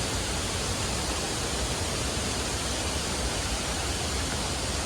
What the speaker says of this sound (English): Kesarval waterfalls.